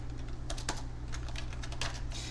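Keys on a computer keyboard tapped in short irregular bursts, close and fairly quiet over a steady low hum, with no talking.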